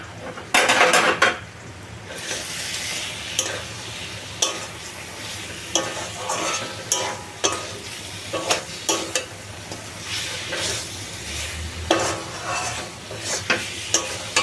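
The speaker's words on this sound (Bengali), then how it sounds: "ধনে গুঁড়োটা দেওয়ার পর আবার একটু এটা মিশিয়ে নেবো" A spoon stirs mango chicken around a pan right after coriander powder goes in, with repeated scraping and clinking against the metal over a low sizzle, close and steady throughout.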